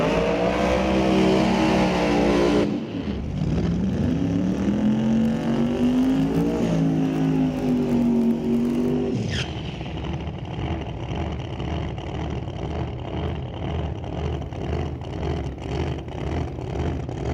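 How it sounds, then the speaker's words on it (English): Drag race with a blue 2017 Corvette and a twin-turbo small-block Chevrolet, engines roaring loud and close, revving hard, then dropping into a sustained high-pitched wail as they launch and pull away. "2017 Corvette, blue in color in the right lane. Nick running a little small block Chevrolet twin turbo"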